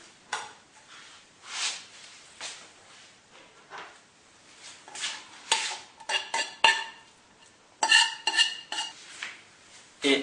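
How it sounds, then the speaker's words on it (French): Sliced potatoes are tipped into a gratin dish and mixed with onions and bacon lardons for a tartiflette, giving irregular scraping, clinking and soft thuds of a utensil against the dish at close range. "Nous allons maintenant pouvoir verser les pommes de terre dans un plat à gratin."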